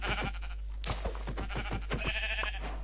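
Sheep bleat in the Minecraft video game, a run of short, wavering, nasal calls repeating in quick succession, close and clear over a steady low hum, with no talking.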